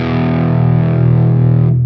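Electric guitar through the Clean Pixie Dust channel of an ML Sound Lab Astro 20 amp model, a single sustained compressed, slightly pushed chord ringing loud and alone before cutting off.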